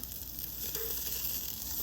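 Steady, low hiss of food sizzling over a charcoal grill fired with Jealous Devil briquettes, continuous and fairly quiet with no voices.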